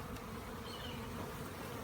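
Honeybees buzz around a hive's honeycomb frames, a faint, continuous droning hum of many insects with no voices.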